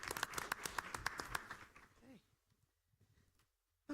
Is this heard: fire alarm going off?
no